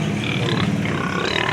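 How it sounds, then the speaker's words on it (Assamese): Australian pigs on a pig farm grunting steadily and close, a dense, continuous chorus of low snorts and grunts with no voices over it. "এয়া চাই লওক এয়া অষ্ট্ৰেলিয়ান গাহৰি হয়"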